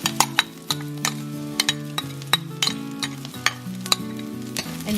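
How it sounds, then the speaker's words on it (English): Garlic hits a hot frying pan with a steady sizzle and frying hiss, broken by repeated clinks and scrapes of a utensil stirring against the pan, up close with no talking. "So next, I'm gonna add my garlic."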